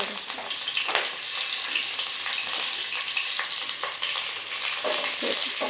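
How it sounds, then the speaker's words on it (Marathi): Curry leaves crackle in hot oil, making a dense, continuous sizzle with spattering pops and some stirring noise, close and fairly loud. "आता आपण याच्यात थोडेसे कढीपत्ता टाकणार आहे."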